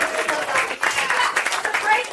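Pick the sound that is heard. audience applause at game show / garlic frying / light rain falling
audience applause at game show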